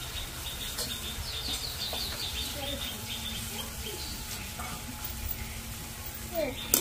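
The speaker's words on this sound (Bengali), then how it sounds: "বাদাম ঝুরির কাঠিগুলো যেহেতু সরু সরু হয়েছে, তাই কিন্তু তেলে দেওয়ার সাথে সাথেই ভাজা হয়ে যাচ্ছে।" Thin badam jhuri sticks frying and foaming in hot oil, giving a dense, continuous close-up sizzle with fine crackles and brief chirpy squeaks throughout.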